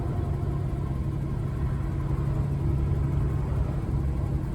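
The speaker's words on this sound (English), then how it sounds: "I did a video kind of reviewing how the exhaust system on this old Ford is held up." A 1982 Ford F-150 with the 4.9L engine and custom exhaust, a steady deep rumbling drone heard from inside the cab while driving, constant and fairly loud with no talk.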